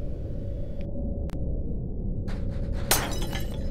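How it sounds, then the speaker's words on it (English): A light smashes with a sharp, bright glass-shattering crash near the end, inside the spaceship-set VR game The Rig, following a short rattle over a steady low hum. "Oh, I smashed my light."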